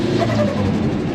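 Turbocharged car accelerating on boost, a brief, close, deep engine drone that stays steady and fairly loud throughout.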